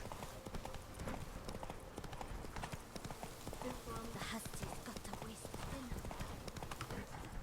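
Galloping horse hooves in the video game The Witcher 3: Blood and Wine, a fast, steady clip-clop rhythm that runs continuously beneath a talking voice.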